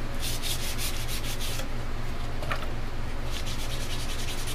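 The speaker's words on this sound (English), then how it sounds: "as you go through each grit, you'll, you'll feel less resistance going across the surface of the horn" Sandpaper rubs in steady back-and-forth strokes across a cattle horn, close and fairly quiet, with a brief pause midway and a low background hum.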